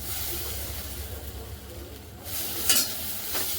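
Grated coconut and soaked cashews roast in a pan over a low flame, giving a steady soft sizzle with occasional stirring scrapes and brief clinks toward the end.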